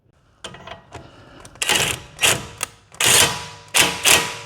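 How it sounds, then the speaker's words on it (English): An impact wrench works a sway bar end link nut on a Ford front end, firing several short, loud rattling bursts with brief pauses between them, close up. "I just bumped it a couple times with the impact"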